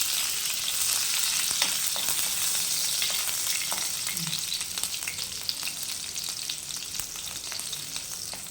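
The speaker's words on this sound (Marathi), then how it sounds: "आता त्याच्यामध्ये आपण मिरची टाकून घेतो" Green chillies and garlic sizzle steadily in hot oil in a pan, a loud continuous frying hiss with scattered crackles and occasional stirring clicks, with no voices.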